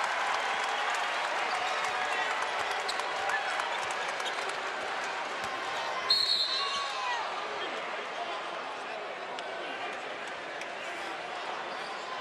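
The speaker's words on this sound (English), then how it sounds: "Crowd on their feet." College basketball crowd at a Western Kentucky home game against MTSU, on its feet roaring and applauding in a dense, steady wall of noise, with a brief surge at a slam dunk and commentators talking underneath.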